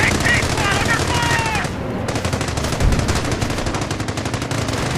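Rapid machine gun bursts and scattered gunfire in a Company of Heroes battle, loud and continuous over ambient combat noise.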